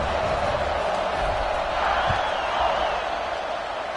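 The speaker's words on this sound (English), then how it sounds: "this crowd is feeling themselves after that last drive" A stadium crowd roars in a college football video game between Alabama and Nebraska during a kickoff, as a dense, sustained wash of cheering with a faint thud partway through and commentary voices underneath.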